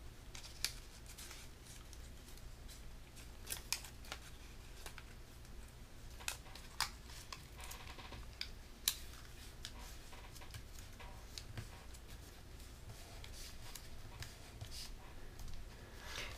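Paper folded and firmly creased into an origami beagle, with repeated crisp rustles and sharp crackling snaps close up, sounding against a low steady room hum.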